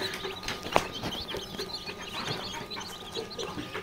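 About fifty layer chicks in an unpowered brooder peep and chirp in a constant soft chatter, fairly faint, with one sharp click standing out early on.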